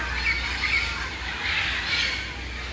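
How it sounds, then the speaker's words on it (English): A northern crested caracara in a cage in Trinidad gives a harsh, rasping call that runs on without a break for a few seconds, loud and close. "Crested Caracara, northern crested Caracara bird."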